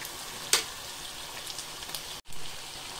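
Meat and potatoes frying in a pan with freshly added tomatoes, giving a steady soft sizzle and crackle throughout, one sharper pop early on and a brief drop-out near the end.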